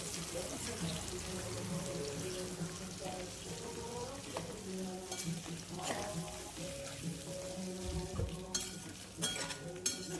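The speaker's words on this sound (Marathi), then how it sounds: "आता बटाटे परतून घेऊया." Potatoes being sautéed in a pan give a faint sizzle under repeated stirring and scraping clinks of a utensil, with a few louder knocks near the end.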